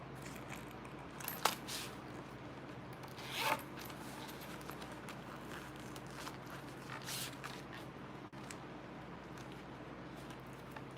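A zipper on a pocket sewn from vinyl scraps is worked open and shut, giving two short, close rasping pulls against a quiet room background.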